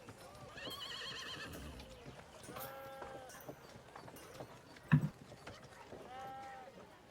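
Horse whinnies and neighs with hooves clip-clopping, likely sound effects during a tabletop Dungeons & Dragons session; several rising neigh calls spread across the stretch, one sharp knock near the end, with faint background chatter.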